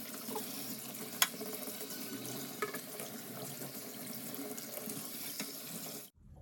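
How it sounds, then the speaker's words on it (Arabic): Tap water runs steadily into a sink with occasional clinks and splashes as an air fryer rack is rinsed, then the flow stops abruptly near the end. "واغسل معاكم كمان الشبكه"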